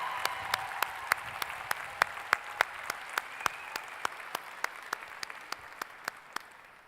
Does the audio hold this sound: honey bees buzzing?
no